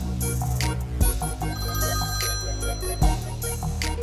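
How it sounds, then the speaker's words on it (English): A phone rings in a busy indoor scene, its tone sounding steadily throughout among music-like tones and background noise, with no speech. "my phone's ringing"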